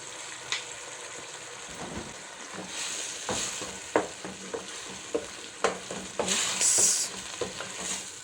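Loud sizzling of minced beef in a hot pan with tomato paste, with repeated scraping stirs of a spoon, no voices.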